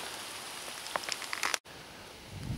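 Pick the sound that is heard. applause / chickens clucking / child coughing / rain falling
rain falling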